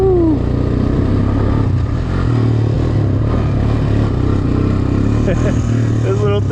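A Honda Recon 250 ATV engine drones and revs while riding over rough ground, a loud close throbbing with rising and falling pitch and rattling clatter, a rider's voice over it.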